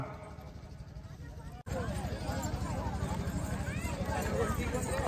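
A bull's hooves clatter in a fast, rhythmic gallop close by on a race track at a bullock-cart race in Kundalaj, rising after a brief cut, beneath constant crowd chatter and voices.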